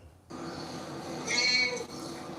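A vocal male cat gives a single drawn-out meow, close and clear, rising in the middle and trailing off, with faint background noise and no talking.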